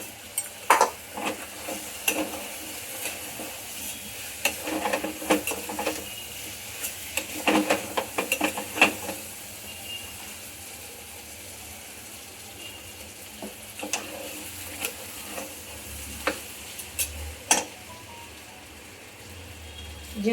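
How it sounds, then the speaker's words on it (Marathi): Rice goes into a cooking pot and is stirred, giving bursts of scraping, clinking spoon-on-metal strokes that come in irregular clusters, busier early on and sparser toward the end, with no talk. "हे टाकूयात आपण तांदूळ."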